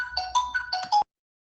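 A phone ringtone plays a bright, clear melodic pattern for about a second, close and fairly quiet, then cuts off abruptly into silence.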